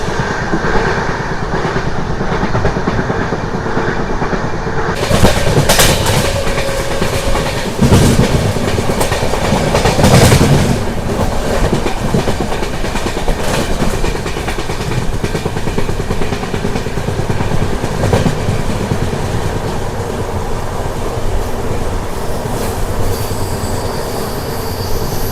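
Nanded to Tirupati special train on the Nadikudi–Srikalahasti line, rushing through Chalama railway station without stopping: loud continuous rumble from on board with rhythmic wheel clatter and occasional squealing, no voices.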